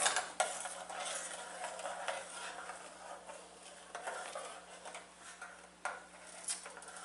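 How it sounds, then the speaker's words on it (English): Vegan Alfredo sauce thickening in a pot on the stove, stirred steadily with a utensil; continuous soft scraping and gentle bubbling with occasional clinks against the pot, close and quiet, no one speaking. "we're just going to stir it around until it gets as thick as we want it."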